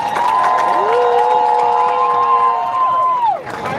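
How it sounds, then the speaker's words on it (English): A crowd at a march on Washington claps and cheers for speakers, a sustained, fairly loud wash of applause with voices and whoops rising over it before it fades near the end. "Let's clap them up."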